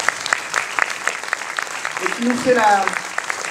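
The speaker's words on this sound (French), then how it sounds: "Je vous demande de l'applaudir" Audience applause for an actress at the closing night of the Cinémondes 2016 film festival: steady clapping throughout, with someone speaking over it partway through.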